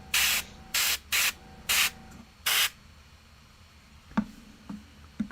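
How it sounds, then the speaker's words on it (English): Five short airbrush bursts spray paint onto a Warhammer 40k Catachan Jungle Fighters miniature, each a loud broad hiss of about half a second with brief gaps, followed by a few faint clicks and knocks. "Love a good airbrush."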